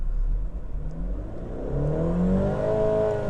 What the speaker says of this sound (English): Okay, so let's start revving the car.